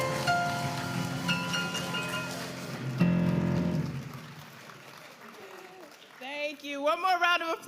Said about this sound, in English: applause for the incomparable Dr. Beverly Vaughn and the Freedom Singers